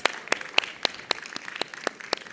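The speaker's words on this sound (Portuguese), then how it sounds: "Uma salva de palmas!" Audience at a Brazilian insurance-career event clapping in a steady run of about ten crisp, evenly spaced claps, sparse and close rather than a full roaring ovation.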